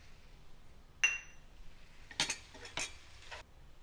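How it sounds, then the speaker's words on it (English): Chicken and tinga sauce, seasoned with black pepper and cumin, stirred together in a pan for tinga tacos: one sharp utensil clink, then a few brief scraping bursts, quiet overall with no talking. "Now we're going to mix in the chicken and our sauce."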